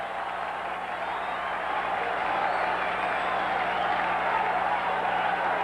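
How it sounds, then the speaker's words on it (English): Baseball crowd at a Chicago White Sox at Cleveland Indians game, a broad, distant roar of fans cheering and clapping that swells slightly and holds steady. "Fans getting a little cheering going with that 2-strike count."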